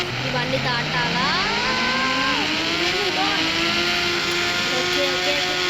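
A motorcycle engine in the mobile game Indian Bike Driving 3D whines and revs, its pitch climbing steadily through gear-like sweeps, loud and continuous with a voice talking over it.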